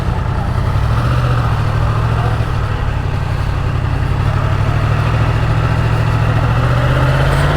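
A 2019 Yamaha MT-10 motorcycle engine runs steadily, a continuous low, close rumble with an even drone and no breaks, heard alone.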